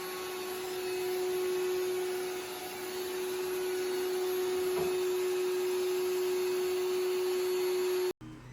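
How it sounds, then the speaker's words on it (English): A shop vac vacuum cleaner mounted on a homemade robot runs with a steady drone and a sharp tonal whine, constant at moderate volume until it cuts off abruptly near the end. "so you don't have to listen to the vacuum noise the rest of the time."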